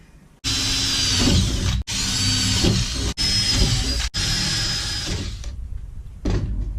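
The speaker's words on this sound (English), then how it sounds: "let's start drilling" A loud power drill whines in four long bursts drilling holes for rebar table legs, separated by brief pauses, close up, with a short final burst trailing off at the end.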